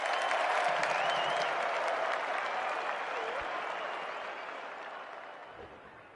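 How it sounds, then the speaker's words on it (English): Stadium crowd cheering and applauding in the Australian football video game AFL26, a dense roar of clapping and voices that starts loud and gradually fades, with no commentary over it. "The crowd noise tells you all you need to know."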